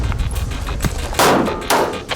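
Gunfire during military shooting training, with several loud sharp reports including two heavy blasts close together near the end, standing out over a steady background.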